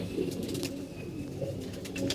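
Pigeons coo in a loft where pairs are nesting with eggs and chicks, a steady low murmur of overlapping calls close by, with faint higher chirps above and no talking.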